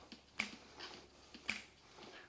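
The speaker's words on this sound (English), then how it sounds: "Everybody snap your fingers." Two crisp, faint finger snaps about a second apart in a quiet classroom ensemble setting, with soft background movement between them.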